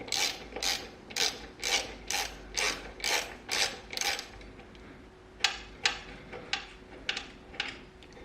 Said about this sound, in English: you want to loosen and remove the bolts